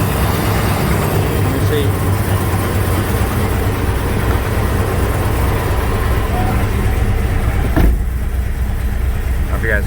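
A 1996 Jeep Grand Cherokee engine with throttle response problems and a slight misfire runs loud and steady close by, a low rumbling drone given a little gas, with a voice briefly speaking over it.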